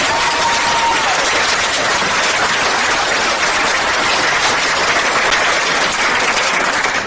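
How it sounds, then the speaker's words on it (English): A large crowd applauds the staff at a congressional town hall in Holden Heights, a dense, continuous wash of clapping that stays loud and even throughout with no pauses. "Can we give a round of applause to the staff and person across, please?"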